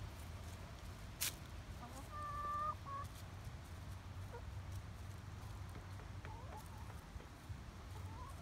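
Hens and a rooster clucking in a backyard flock, a few faint, sparse calls over a low steady background hum, with no talking.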